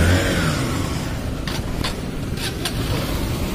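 Cars passing in steady road traffic in Ramnagar, heard from a waiting bike: a continuous broadband engine and tyre drone with a few brief whooshes as vehicles go by close.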